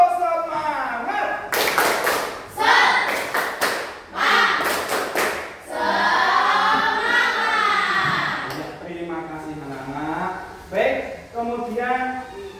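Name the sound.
schoolchildren doing a rhythmic spirit clap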